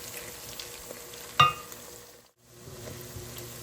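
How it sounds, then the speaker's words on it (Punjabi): Onions sizzle softly in a pan for a gobhi bhurji dish, a faint steady frying hiss with one brief clink of a utensil against the pan, then a short drop in the sound. "1 ਮਿੰਟ ਲਈ ਹੋਰ ਪਕਾਵਾਂਗੇ ਆਪਾਂ ਆਪਣੇ ਪਿਆਜ਼ਾਂ ਨੂੰ"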